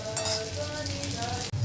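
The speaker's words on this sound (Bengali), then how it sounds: "সিমুইগুলো ঘিয়ে ভেজে নেওয়া হচ্ছে" Vermicelli being fried in ghee for semai payesh, a short steady sizzle heard up close with faint clinking, no one speaking.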